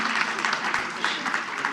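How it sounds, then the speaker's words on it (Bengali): An audience in an auditorium at a book event claps loudly, a dense burst of applause with uneven peaks running through the short stretch. "তার জন্য জোরে হাততালি।"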